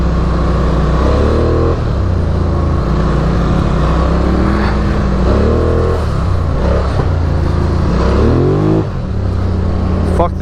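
A Polaris Sportsman 1000 XP ATV engine growls close by through several throttle blips, its pitch rising and falling with each pull, loud and rough, while someone talks over it.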